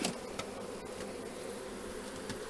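A steady, close-up drone of honey bees buzzing around an open nucleus hive, continuous and fairly even throughout, with no voices.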